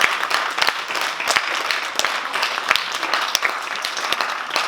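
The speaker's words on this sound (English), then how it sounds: "So usually, yep, round of applause." An audience at a middle school show claps throughout, a fairly close, steady patter of many hands with a few sharper individual claps standing out.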